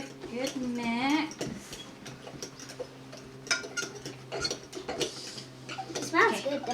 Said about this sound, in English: let's give that another good mix